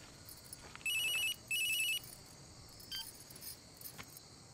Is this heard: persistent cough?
no